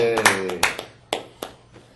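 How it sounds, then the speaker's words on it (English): A handful of sparse, uneven hand claps from a few people in a podcast recording, about five separate claps spread over two seconds, close and fading, with a voice briefly heard at the start. "Let's everybody clap"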